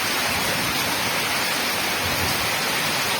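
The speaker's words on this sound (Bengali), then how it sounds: "বৃষ্টি যেন আরো বেশি জোরে হচ্ছে" Heavy monsoon rain falls hard outside a home in Bengal, a loud, unbroken hiss of water that stays even and dense throughout.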